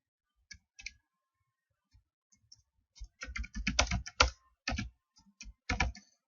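A computer keyboard being typed on, sparse isolated key clicks at first, then a dense run of rapid keystrokes, close and clear against a silent background.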